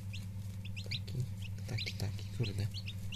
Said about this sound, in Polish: A gdzie jest ten kurczak taki?